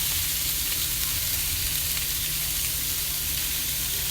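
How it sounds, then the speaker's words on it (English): Wild salmon pieces sizzle steadily on a hot grill, a continuous close hiss of frying that holds even throughout with no pauses and no talking. "the salmon now is on the grill"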